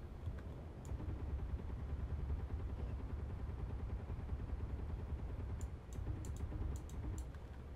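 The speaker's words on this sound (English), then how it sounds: "Oh, Jesus, that was a lot of weapons fire" Heavy weapons fire from ships in Space Engineers, a faint, steady rumbling barrage of rapid gunfire with a few sharp clicks near the end, distant and unbroken throughout.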